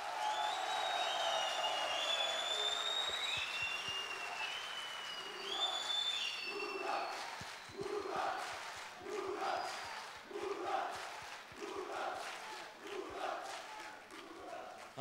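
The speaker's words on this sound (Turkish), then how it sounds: "alkışlamalarını rica ediyorum." Applause from a television studio audience at the Popstar season eight finale in Turkey: sustained clapping with a few whoops and shouts that thins into rhythmic, patterned clapping, at a moderate level.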